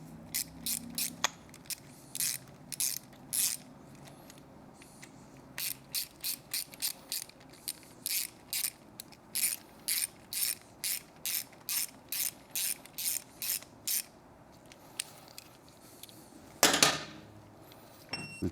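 A hand ratchet tightens the screws on a Triumph liquid-cooled motorcycle's clutch cover in many quick, evenly spaced bursts of rapid clicking, close and crisp, with short pauses between strokes and no talking.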